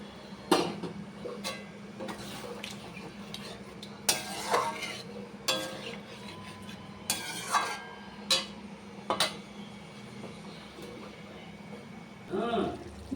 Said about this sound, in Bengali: এবার মশলা দিয়ে ভালো করে কষিয়ে নেব